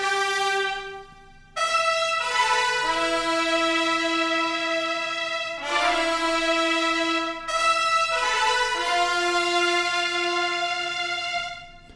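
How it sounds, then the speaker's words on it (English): A bright, brassy trumpet melody layered with sustained strings, moving through several long notes with clear attacks, full and steady throughout. "when you take the trumpet melody here and you double it with the string"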